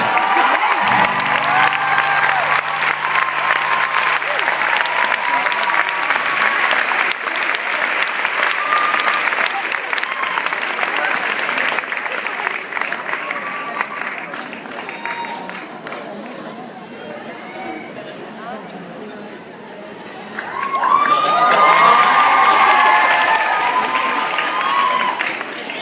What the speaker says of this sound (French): Je suis ravi que vous applaudissiez la seule chorégraphie du spectacle.